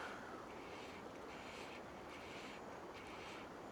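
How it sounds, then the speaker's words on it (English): Wind blows steadily beside a trout river, a constant broadband rush with gusty swells and no voices. "I'm kind of hoping this wind will maybe ease off"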